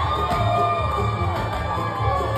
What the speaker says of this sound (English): Cheer your athletes on and boo your opponents.